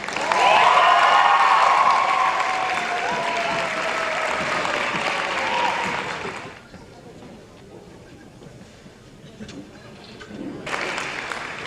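A school symposium audience claps for a student speaker, dense applause for about six seconds under a voice speaking over it, then quieter talk before a short burst of clapping returns at the end.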